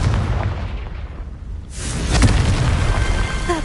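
A Confringo blasting spell explodes in Hogwarts Legacy. Steady ambient rumble gives way to a sudden loud booming burst, and a broad noisy roar then lingers.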